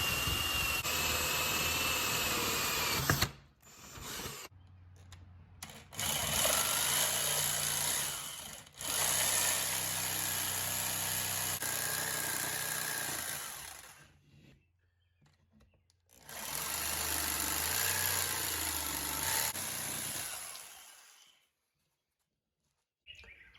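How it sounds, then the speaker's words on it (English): A power router cuts holes into a live-edge walnut charcuterie board in three long loud bursts of high whining, with short quiet gaps and brief starts and stops between them. "I'm routing out some holes to where I can put the jigsaw in there"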